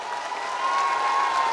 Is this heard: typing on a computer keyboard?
no